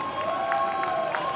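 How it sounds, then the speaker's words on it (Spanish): Studio audience at a televised dance competition applauds and cheers after the judges' scores for a rumba/bolero routine, a steady dense wash of clapping and shouts with a faint tonal hum underneath. "¡Fuerte el aplauso!"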